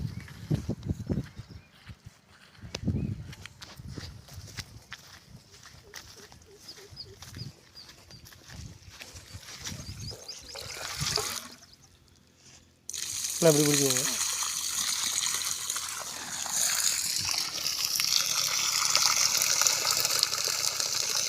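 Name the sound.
water flowing from DC motor pump outlet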